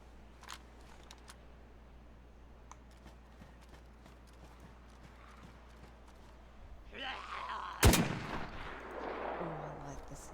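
A gun fires in a video game: scattered faint clicks and taps, then a single loud, sharp shot near the end followed by a short rumbling tail, with faint background murmur.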